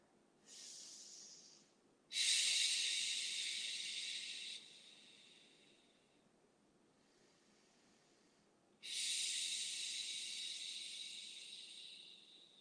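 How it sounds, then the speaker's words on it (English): Deep slow breaths held in a yoga runner squat, each long airy inhale or exhale hissing close to the microphone, with quiet gaps between, no talking. "Close your eyes and breathe 3 breaths here."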